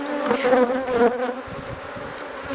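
Honey bees buzzing close by during a beehive inspection, a dense continuous drone with wavering pitch, steady and alone with no talk.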